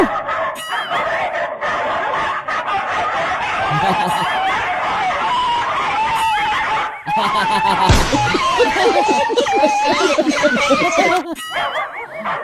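A dog barks amid loud, busy background noise with a rooster crowing and people laughing and talking.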